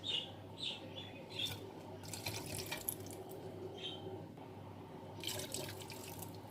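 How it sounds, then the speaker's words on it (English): Water pours and splashes quietly in a steady stream as it is strained from a cooking pot, faint and nearby, with birds chirping softly in the background. "And now I'm going to strain the water"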